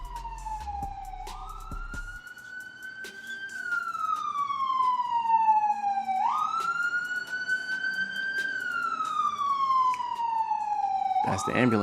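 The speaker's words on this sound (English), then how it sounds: "That's the ambulance." A wailing siren sweeps slowly up and down in long, loud cycles, rising and falling continuously and close by, with a brief low rumble at the start.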